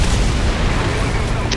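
Tank cannon shot striking the player's tank in a realistic tank video game: a loud, dense, booming blast filling the whole short stretch with rumbling noise, close and overpowering.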